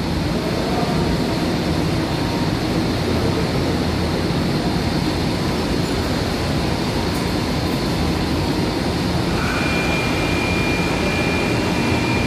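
Electric water pump motors run at a filter plant, drawing water from a tower out to garden lines, giving a steady loud broadband drone with a faint constant whine throughout, no pauses and no talk.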